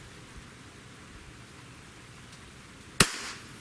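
A Beeman 2027 multi-shot PCP air pistol fires a single pellet, one sharp close crack breaking a faint, quiet background and then decaying quickly.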